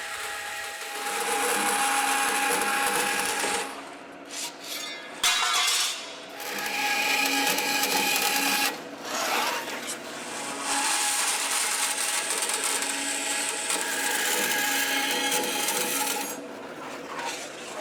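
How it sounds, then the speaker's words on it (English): Sheet steel of 16 gauge trimmed to fit on a classic Camaro road-course build, with a power cutting tool whining loudly in long sustained bursts, broken by short pauses and sharp metallic clinks. "We'll trace our patterns out on a piece of 16 gauge sheet steel and then just trim it to fit"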